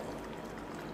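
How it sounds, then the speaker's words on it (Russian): A steady, faint stream of water and vodka pours into a container of blackcurrants for a blackcurrant liqueur, with a soft continuous gurgle and no speech. "И теперь мы сюда добавляем воду и водку"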